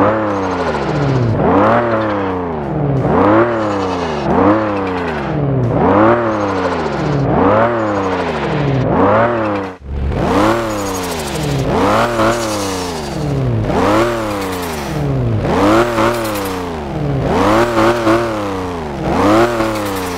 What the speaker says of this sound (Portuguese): Vamos testar agora e ouvir também o som do motor dela original.